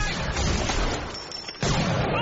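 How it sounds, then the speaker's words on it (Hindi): Gunfire in the film Free Fire: a dense, continuous rattle of shots and booms, loud and close, cutting out briefly before resuming. "सब लोग गोली चलाना बंद करो।"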